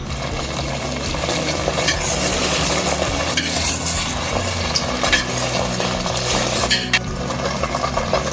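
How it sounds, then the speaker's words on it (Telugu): Wheat rava and coconut sweet being stirred in a pan with cashews and raisins, continuous close scraping and mixing over a low sizzle, with occasional utensil knocks and no speech. "ఇప్పుడు మనం ముందుగా వేయించుకున్న కాజు, కిస్మిస్ కూడా వేసి ఒకసారి మొత్తం కలిసేటట్టు"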